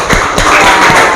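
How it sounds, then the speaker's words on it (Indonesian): Classroom applause for a student group comes through as a loud, close burst of clapping and tapping that fills the whole short moment. "Kasih tepuk tangan buat kelompok 1"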